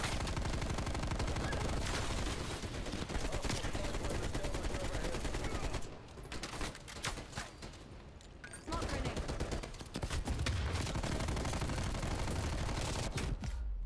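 Sustained rapid automatic gunfire in Black Ops Cold War multiplayer, aimed at an enemy sentry gun, loud and continuous with a brief lull midway before the shooting resumes.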